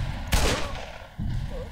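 A single loud, close gunshot blast in the video game Black Mesa, with a booming low tail, over a steady game background.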